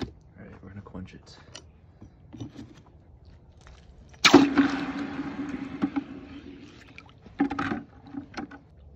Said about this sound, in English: All right, we're gonna quench it.